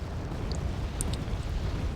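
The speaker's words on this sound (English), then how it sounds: "More artillery's coming in from his own MLRS" Distant MLRS artillery explosions in Wargame Red Dragon rumble in a low, continuous barrage, fairly faint, with a few small crackling pops scattered over the top.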